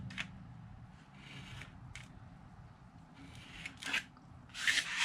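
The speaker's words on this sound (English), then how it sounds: "I am going to angle cut on both sides of that score mark to create tabs" Scissors angle-cut small tabs into a box scrap of paper or card beside a score mark, giving a few short crisp snips and rustles separated by quiet pauses, close and fairly soft, with no speech.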